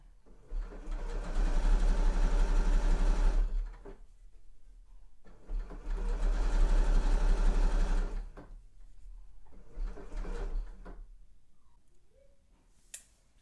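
A sewing machine stitching around the curve of a sweatshirt pocket facing runs in two long steady whirring bursts, then a shorter third one, with brief quiet pauses and small clicks between them, close up.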